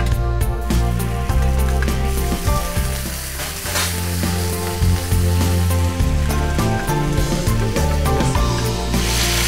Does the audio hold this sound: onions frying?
yes